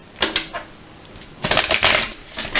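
Oracle cards are shuffled by hand in a few quick, crisp riffling bursts with short pauses between them, close and fairly loud with no one talking.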